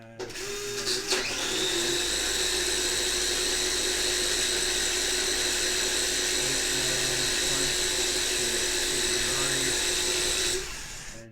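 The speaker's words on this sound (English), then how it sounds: "we will run it on the 10 volt body float dyno" A Group 5 slot car motor spins up on a 10 volt body float dyno, a loud steady high-pitched electric whine holding for about nine seconds before cutting off, with no speech.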